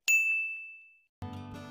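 A single bright bell ding for a subscribe notification rings out and fades, followed by a soft chime-like tone after a brief gap.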